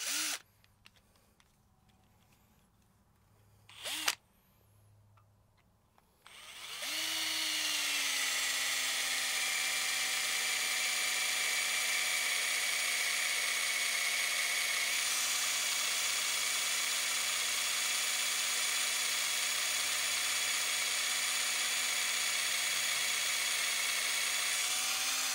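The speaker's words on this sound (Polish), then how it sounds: "W życiu byśmy nie wywiercili tym wiertłem w tej blasze." A 12V cordless drill runs up to a steady high whine while trying to bore into sheet metal, after a few short clicks and a brief blip, then holds a continuous constant pitch.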